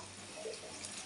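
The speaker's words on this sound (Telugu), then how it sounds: "కొంచెం వాటర్ వేద్దాం" Water is poured into a mushroom curry in a pan, a faint, steady trickling splash for about a second.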